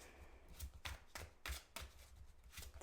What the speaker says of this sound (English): we're just going to do a shuffle